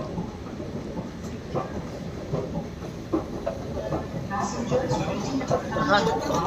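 A metro train pulls into a station platform, its rumbling wheels and rail clatter building steadily and growing louder near the end, while people talk nearby throughout.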